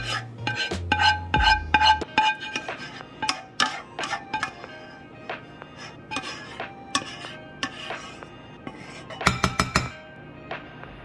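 A spoon stirs vanilla into cherry cobbler filling in a small pot, giving a run of close, irregular metallic clinks and scrapes against the pot with brief pauses and a quick cluster near the end.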